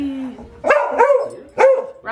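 A dog barks close and loud, three sharp yappy barks in quick succession with a higher whine before them.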